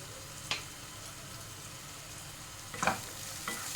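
Tomatoes with salt and turmeric sautéing for palak paneer, a soft continuous sizzle broken by two or three brief spatula scrapes against the pan.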